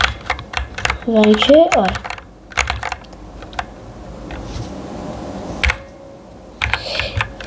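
Keys clack on a K612 computer keyboard in quick bursts and single presses, crisp and close. A person speaks briefly between the typing.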